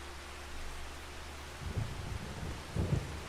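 Steady rain hiss in Farming Simulator 25 with two low rumbling thunder swells rolling in during the second half, moderately loud and with no voices.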